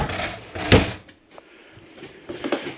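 Door of a Jayfeather 25RB travel trailer closing with one solid thump near the start, followed by quieter interior rattles and room sound.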